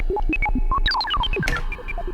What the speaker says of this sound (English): So what effect type is being used here? It's reverb, and we can hear that.